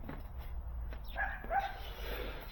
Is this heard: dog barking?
yes